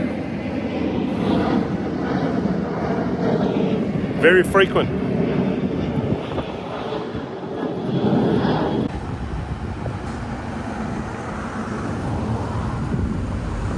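A passenger plane climbs away after takeoff on Jeju Island, South Korea, its steady engine roar filling the background while a person talks over it throughout.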